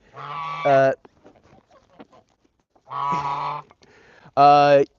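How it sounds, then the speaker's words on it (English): Geese honk loudly near a snowy flock pen, three strong harmonic calls in separate bursts with quiet gaps between, under faint background noise. "We need a goose cameo. Come on, goose."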